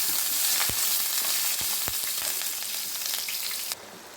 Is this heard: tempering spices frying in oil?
yes